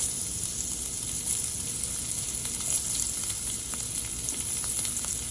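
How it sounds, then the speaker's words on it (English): Squash pieces set face down and carrots searing in one hot pan over medium-high heat, a steady, dense sizzle with crackling oil holding at an even level throughout, no voices. "you're gonna put your squash facing down. Just get a nice sear on those"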